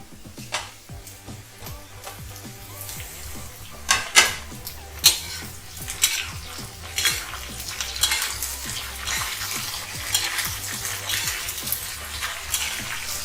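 Capsicum and potatoes frying in a pan, stirred with a metal spatula that clanks and scrapes in irregular strokes over a continuous sizzle, close and fairly loud.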